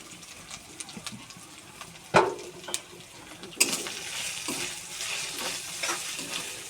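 Beef with ginger paste frying in a pan, stirred with a couple of loud clanking scrapes, followed by a fuller, louder sizzle that carries on steadily.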